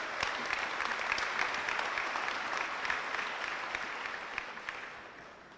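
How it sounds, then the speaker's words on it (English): Guests at a high school academic awards banquet applaud the Master of Ceremonies, a full room of clapping at moderate volume that holds steady before gradually fading out. "let's give our Master of Ceremonies a warm round of applause"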